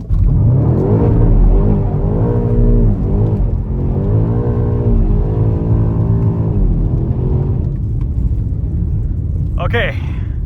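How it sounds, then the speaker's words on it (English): BMW M5 with all-wheel drive accelerating hard in a drag race, a loud engine rising through the revs in stepped gear changes, heard from inside the car, with a voice talking over it and a short whoosh at the end. "I'm gonna jump in the M5 and then we'll see who's fastest"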